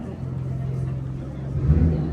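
A Ferrari 812 Superfast in Rosso Corsa drives by on a London street, its engine tone rising to a low growl near the end of a brief pass, with people talking over it.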